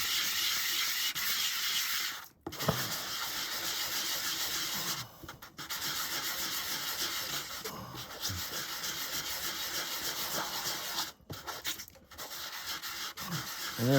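Sandpaper rubbing across a polymer clay kaleidoscope pendant, a steady close gritty scrape running almost continuously with a few brief pauses, no talking.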